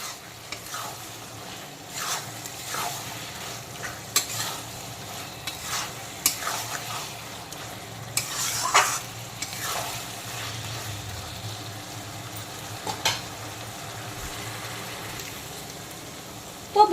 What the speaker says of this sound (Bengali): এখন ভাজা পটল আর আলুগুলোকে আবারও মশলার সঙ্গে 2-3 মিনিট একটু কষিয়ে নেব।